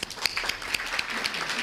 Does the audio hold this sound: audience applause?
yes